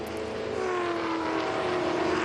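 A Superstars Series race car goes sideways into a corner at Vallelunga, its engine a loud, steady, droning roar with a slowly shifting pitch, heard alone without talk.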